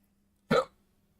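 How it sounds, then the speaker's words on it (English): A single sharp hiccup bursts out close to the microphone, short and abrupt, with quiet room tone before and after. "Those hiccups were wild."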